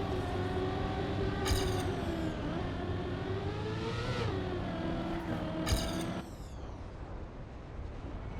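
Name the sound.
racing car engine in Trackmania video game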